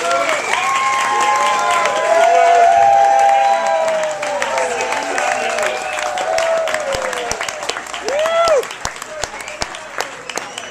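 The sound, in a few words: golf clap for the parents of the bride and groom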